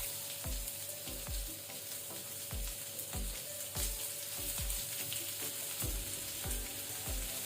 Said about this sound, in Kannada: ಎಣ್ಣೆ ಬಿಸಿಯಾದ ನಂತರ ನಾವು ಆನಿಯನ್ ಈರುಳ್ಳಿ ಹಾಕೋಣ